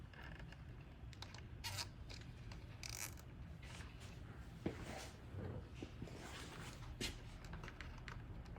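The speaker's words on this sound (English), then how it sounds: "I'm going to go ahead and re-zip tie that just like the factory had it" Zip tie being re-fastened on car wiring during a Norden 901 daytime running light installation, a few faint clicks and ratcheting creaks amid quiet handling noise.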